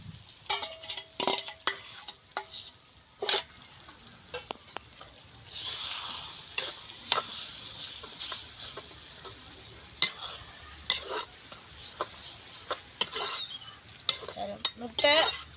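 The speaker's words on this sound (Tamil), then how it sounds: "முட்டையும் கோவாவும் வதங்கிட்டு" Cabbage and egg frying in a pan, a faint soft sizzle under repeated sharp scrapes and clinks of a utensil stirring against the metal, close by and without talk.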